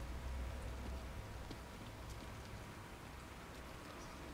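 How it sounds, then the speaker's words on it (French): Steady rain from the horror video game The Evil Within hisses evenly throughout, a dense, continuous wash of drops with no voices. "La pluie va faire disparaître tous les indices."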